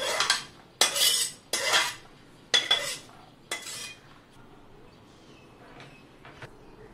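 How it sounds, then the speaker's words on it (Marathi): Roasted fenugreek seeds are scraped out of a pan into a metal plate in four or five loud, rattling metallic scrapes, followed by a few softer clinks and taps. "परतलेली मेथी परातीत काढून घेऊया"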